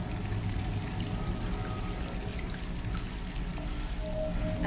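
Water pouring steadily in the video game Stray, a continuous splashing stream that runs unbroken and fairly close throughout.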